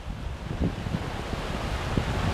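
Wind rushes across a beach, with ocean surf breaking in a steady broad wash; the gusts and waves are loud and close, with no voices.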